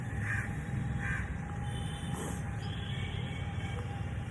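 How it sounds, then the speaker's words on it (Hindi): A black crow caws from nearby, a few short harsh calls spaced apart over steady low rumbling background noise, with no talking. "वो काली चिड़िया बहुत प्यार से बोल रही"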